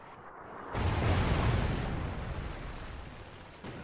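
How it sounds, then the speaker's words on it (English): A Trinity rocket strike detonating in Call of Duty Ghosts multiplayer, one sudden heavy blast that rolls off into a long rumbling decay, loud and close. "Friendly Trinity rocket inbound."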